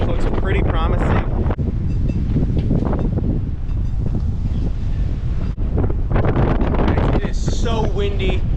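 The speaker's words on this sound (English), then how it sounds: "So windy." Strong wind buffets the microphone outdoors on an island, a constant loud roar throughout with a person talking over it.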